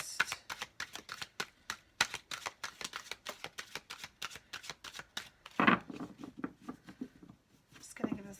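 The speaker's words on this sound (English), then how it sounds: "Just going to give this one more shuffle to kind of clear." Tarot cards being shuffled by hand, a rapid run of crisp, papery riffles and slaps close to the microphone, followed by a brief pause and a few softer handling sounds.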